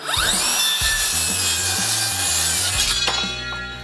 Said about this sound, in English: The Works 20-volt Max Lithium Circular Saw with Exact Track